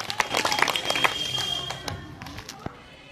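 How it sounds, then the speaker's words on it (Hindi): School audience at a village middle school in Bihar applauding children after a stampede-safety demonstration, with scattered, uneven clapping and taps that fade out within a few seconds. "जोरदार इन लोगों के लिए ताली हो जाए"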